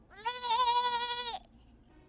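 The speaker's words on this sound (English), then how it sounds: "That sounded a lot like a sheep" A single sheep-like bleat from the animated film Bambi 2, a loud, nasal, wavering cry lasting about a second, then near silence.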